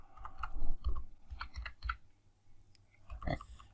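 Fingers tap a computer keyboard in short irregular bursts of clicking keystrokes, close and fairly quiet, with brief pauses between flurries and no speech.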